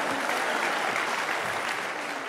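Audience applause at a talk about what awaits believers, a dense steady wash of many hands clapping at once, fairly loud and continuous with no talking over it.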